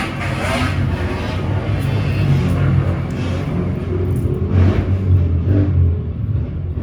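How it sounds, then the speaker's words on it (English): Motorcycles pass by outdoors with a steady, loud engine rumble and revving that swells and holds for several seconds, heard at a moderate distance with no talk over it. "We got motorcycles."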